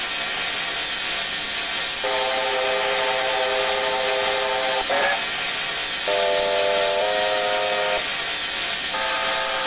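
A New Zealand Kb 4-8-4 steam locomotive in Train Simulator Classic sounds its chime whistle in several held blasts of varying length over a constant hiss of steam.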